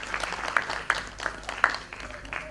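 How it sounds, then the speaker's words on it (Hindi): Applause from an audience at an award ceremony honouring women for journalism and social work, with scattered claps and a few sharper bursts, moderately loud and fairly close, with no talking over it. "ऋषिका शर्मा के लिए जोरदार तालियां।"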